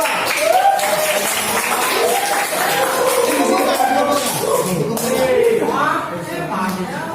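Classroom of students clapping for a group after a poster presentation, a busy, fairly loud patter of hands mixed with chatter and overlapping voices throughout, easing slightly near the end.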